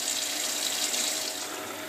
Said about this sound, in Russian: Ну и заливаем рыбу водой, чтобы воды было как можно больше